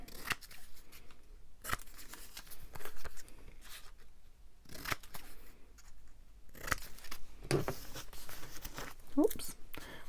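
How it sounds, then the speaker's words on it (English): Scissors snip repeatedly at paper in short, close crisp cuts, spaced irregularly, while someone talks quietly over them. "She needs trimming a bit."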